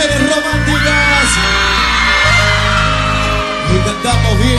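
A live concert crowd of women screams and cheers loudly and steadily for several seconds over sustained, droning music.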